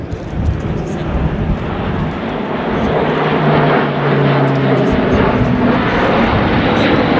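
An Airbus A400M Atlas military transport propeller aircraft drones loudly overhead at an airshow, a steady roaring engine hum that swells slightly as it passes.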